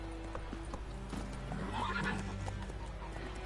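Roach, a horse in The Witcher video game, neighs with repeated clip-clop hoofbeats over a steady game soundscape, with a whinny rising near the middle.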